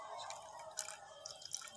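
Jaggery water strained through muslin cloth drips into a pot, with a few faint, close liquid drips and soft trickling over a quiet background.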